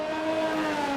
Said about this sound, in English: And Calm's car just decided to peel away.